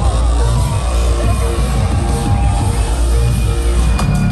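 At the VCT Champions Istanbul 2022 Valorant esports event, a huge arena crowd raves in a dense, continuous roar, loud and unbroken throughout with occasional whoops.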